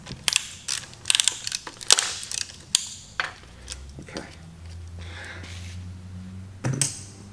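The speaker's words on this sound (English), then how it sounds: "let me tighten this down before I tell you the next step" Metal parts clatter and a wrench clicks in quick bursts while a part is tightened down on an engine short block. After that a quieter low mechanical rumble and a few clinks follow.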